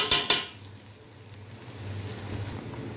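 Onion frying in a mix of oil and ghee, a steady low sizzle that swells toward the end, opening with a couple of sharp clinks of a utensil against the pan.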